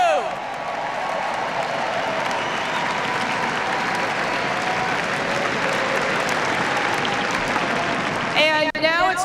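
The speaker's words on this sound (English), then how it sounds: "let's give them a great round of applause" Sustained loud applause from an indoor crowd at a New Hampshire Democratic Party event, steady dense clapping throughout, briefly overlapped near the end by a distant voice.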